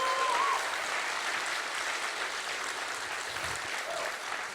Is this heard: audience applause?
yes